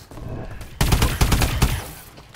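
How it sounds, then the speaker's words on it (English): An AE4 energy weapon fires two-shot bursts in Call of Duty: Advanced Warfare: several sharp, loud shots land in quick succession close up, then trail off into low game ambience. "This is like a two-shot burst."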